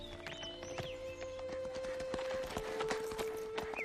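Horse hooves clip-clop at a steady walking rhythm along a steep trail, close and distinct, with an occasional faint whinny and no talk.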